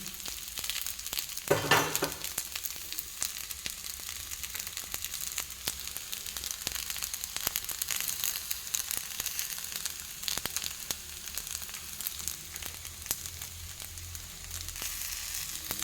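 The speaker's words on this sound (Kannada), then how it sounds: "ಆಯಿತು, ನಮ್ಮದು ಪತ್ರೊಡೆ ಫ್ರೈ ಆಯಿತು." Pathrode slices frying in ghee in a pan give a steady, soft crackling sizzle throughout, with a brief louder burst of spattering near the start and faint scraping under it.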